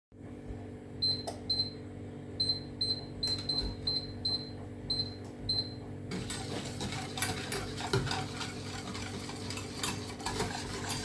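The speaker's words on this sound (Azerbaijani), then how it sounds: "Dayanmadan qarışdırmaq lazımdır." Milk cream stirred continuously in a pot, a spoon scraping and ticking against the metal in a steady rhythm, close and quiet, with a low hum and faint beeps early on.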